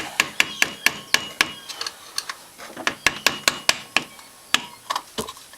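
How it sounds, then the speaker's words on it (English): Sharp metallic hammer taps ring out in quick irregular bursts, about two dozen strikes close by, with short pauses between clusters, loosening a tight part during a Honda Recon 250 top end and clutch rebuild. "May need a hammer to tap on this thing a little bit."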